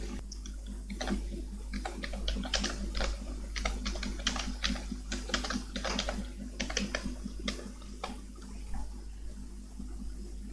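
Steady typing on a computer keyboard, with quick irregular clicks running throughout at close range while slides are edited in PowerPoint, and no voices.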